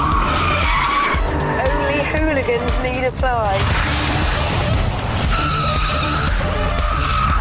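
A Vauxhall VXR8 with its traction control switched off skids hard, with tyre squeal and a revving engine running loud and close throughout while someone talks over it.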